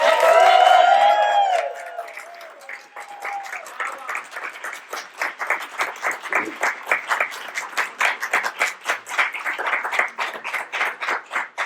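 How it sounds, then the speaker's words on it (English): Crowd at a fashion show cheers and whoops loudly at first, then settles into rhythmic clapping that continues in waves. "let's give Paola a big round of applause for this"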